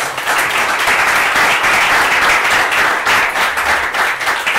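Dense audience applause at a developer conference talk, loud and sustained throughout with steady clapping and no pause.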